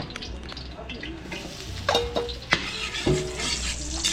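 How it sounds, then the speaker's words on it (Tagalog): Garlic and onion sauté in a pan in a restaurant kitchen as a base for pancit, with a continuous sizzle and a few sharp clanks from a spatula scraping the pan. "So gigisa lang natin yung bawang sibuyas natin."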